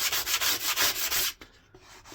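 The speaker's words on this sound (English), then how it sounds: "quick sanding down" Sandpaper rubs back and forth over a plywood sailing-boat cutout made on a scroll saw, with a steady run of rhythmic scratchy strokes that stops partway, leaving a few fainter scrapes.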